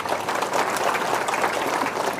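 Audience at an Islamic boarding school gathering breaks into applause, a dense, steady patter of many hands clapping at moderate loudness throughout.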